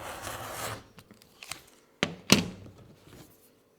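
Leather square cut for a notebook cover, sharp close snips and rasping slices in short bursts, with quiet gaps between and two louder cuts near the end.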